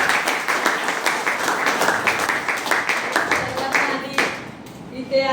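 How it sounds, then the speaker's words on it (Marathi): An audience claps for Anu madam at a branch gathering, with bursts of applause running steadily for several seconds and fading near the end. "अनु मॅडम प्लीज जोरदार टाळ्या वाजवा अनु मॅडमसाठी"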